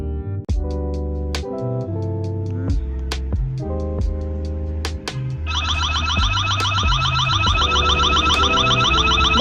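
A solar 4G security camera's built-in siren blares a loud electronic alarm, rapidly warbling and repeating, and it rises over tonal melodic beeps that come first.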